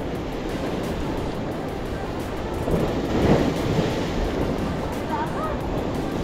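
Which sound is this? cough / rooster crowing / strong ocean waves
strong ocean waves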